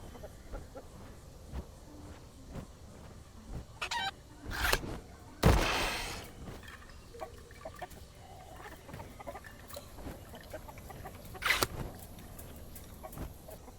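A chicken clucks in the dinosaur survival game The Isle: Evrima, short scattered clucks and squawks against a busy, rustling outdoor game ambience, with a couple of louder bursts and no talking.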